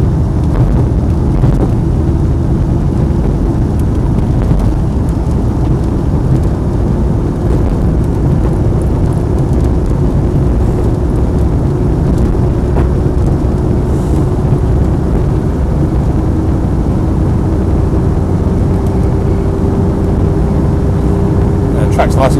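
Land Rover 90 with a 2.5 TD diesel engine driving along, a loud continuous low rumble with road and wind noise throughout, heard from inside the vehicle.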